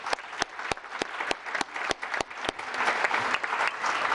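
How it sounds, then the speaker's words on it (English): Applause from the audience at a town council meeting, with steady mid-distance clapping from a modest crowd punctuated by a few sharp, loud claps close by and no talking. "can we extend a warm thank you of applause to these wonderful,"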